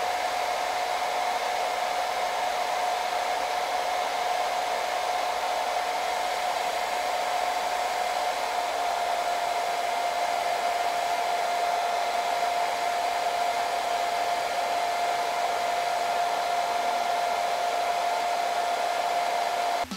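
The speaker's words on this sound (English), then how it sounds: "I've literally been sitting off camera holding a blow dryer to my face" A hair dryer blows steadily and loudly for the whole stretch, a constant whirring roar with a high tonal whine and no other sounds.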